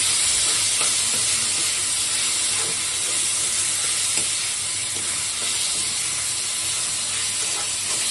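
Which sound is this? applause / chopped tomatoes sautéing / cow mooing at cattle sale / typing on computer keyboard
chopped tomatoes sautéing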